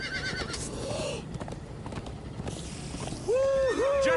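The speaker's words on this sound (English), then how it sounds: "Come on, horses!" Horses gallop and neigh in the Minecraft Story Mode video game, a rumbling bed of hoofbeats and motion with a sharp, bright whinny rising near the end, fairly close.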